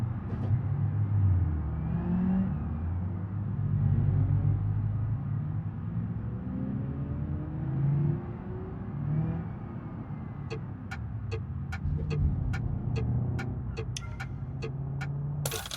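A long-geared car in the BeamNG driving game revs steadily upward toward redline, a droning engine note rising and falling, followed by a quick series of sharp ticking clicks near the end, without talk.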